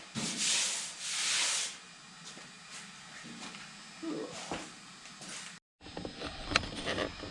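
Metal being ground down on a front fender patch panel for a Henry J Gasser hot rod, with two loud rasping bursts up close, then quieter intermittent scraping and a brief cut.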